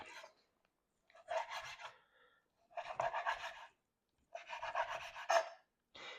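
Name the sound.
knife slicing stacked bacon strips on a board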